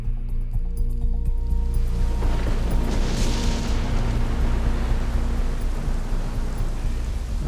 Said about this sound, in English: it looks like it's started to rain